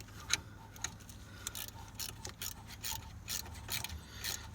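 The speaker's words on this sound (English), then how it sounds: "I'm gonna grab my ratcheting wrench" A ratcheting wrench turns bolts on a 1995 Honda Civic, making faint, rapid clicking and rasping bursts close by, with low background hum and no talk.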